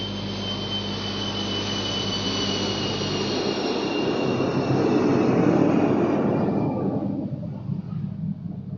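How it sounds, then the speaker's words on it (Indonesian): An airplane passes overhead with a loud, broad jet roar that swells to a peak midway and then fades and thins out as it moves away, heard alone. "gangguan pesawat lewat ya"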